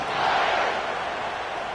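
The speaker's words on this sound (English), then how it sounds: "this crowd is feeling themselves after that last drive" A stadium crowd in the NCAA 26 college football video game roars during a kickoff, a dense, loud, sustained cheer that swells briefly and then eases slightly over under two seconds.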